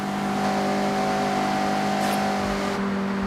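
Mazda MX-5 engine in the Forza Horizon racing game holding a steady, loud revving drone at near-constant pitch, with no voices.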